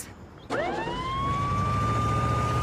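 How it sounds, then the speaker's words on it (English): Ambulance siren in the Family Guy PSP video game, bursting in abruptly and rising into a loud, steady wailing tone that holds close and dominant to the end. "Brian, call an ambulance!"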